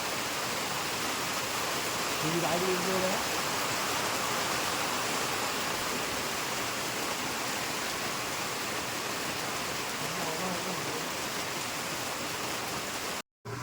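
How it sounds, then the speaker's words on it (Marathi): Rain falls steadily in a village as a dense, even hiss that holds at the same level throughout, with a few faint voices underneath and a sudden stop right at the end. "पाऊस आला आहे."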